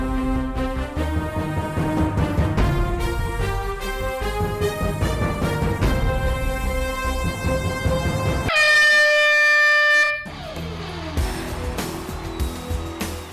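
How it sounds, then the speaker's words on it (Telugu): A game show horn signalling the start blares as one long, loud, sustained blast after several seconds of upbeat music, then cuts off as the music resumes. "నేను 1 2 3 అంటాను, మ్యూజిక్ ఆన్ అవుతుంది, హార్న్ వస్తుంది, తర్వాత స్టార్ట్ అవ్వాలి."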